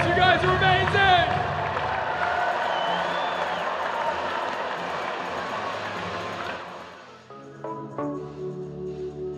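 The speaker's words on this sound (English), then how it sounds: "Give yourselves a round of applause." A large stadium crowd applauds and cheers at a Savannah Bananas versus Party Animals Banana Ball game in a Charlotte football stadium, with a dense, roaring wash of clapping and voices for about six seconds before it drops away.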